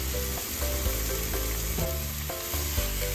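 Sliced beef fries in a hot pan for a Philly cheesesteak, a loud, close, continuous sizzle with a few clanks of a spatula, without any voices.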